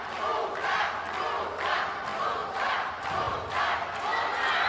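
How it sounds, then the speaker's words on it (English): Big arena crowd cheering and chanting in rising, pulsing waves during a Georgia versus Russia judo team final at the 2014 European Championships in Montpellier, loud and continuous with rhythmic swells. "Big cheering crowd"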